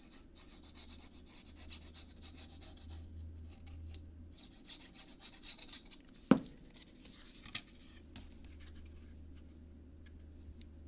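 Soft rubbing and rasping strokes as a surface is burnished down by hand during nursery work on a farm, quiet and close, with a single sharp knock partway through.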